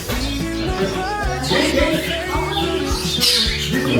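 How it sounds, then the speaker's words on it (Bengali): Many birds in a London pet shop chirp and squawk at once in a loud, dense chorus, nearby and constant, with rhythmic mechanical thumps running underneath. "পাখি কিচিরমিচির শুনতে কিন্তু ভালোই লাগে"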